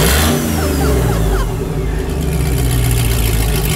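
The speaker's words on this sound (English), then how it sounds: "give it some throttle" A supercharged LS V8 in a work van revs hard through its exhaust, a loud, close, deep roar that climbs sharply and then holds a rough, throbbing drone.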